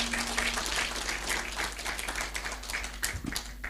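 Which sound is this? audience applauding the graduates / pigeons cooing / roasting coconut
audience applauding the graduates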